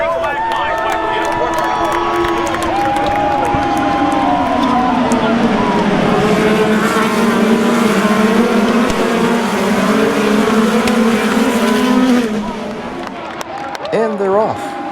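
IndyCar race cars roar off at the start of the St. Petersburg, Florida race, a loud sustained wall of engine noise with shifting pitches over crowd noise, fading abruptly near the end as a voice speaks.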